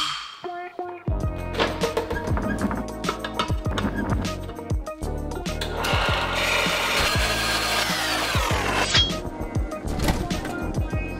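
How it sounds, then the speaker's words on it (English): A bandsaw slicing through plastic adjusters cut to length, the blade whining and rasping in several close, loud passes with brief pauses between cuts. "could cut them on the bandsaw"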